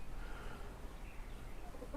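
Steady low farmyard rumble with soft chicken clucks and faint bird calls scattered through, no talking.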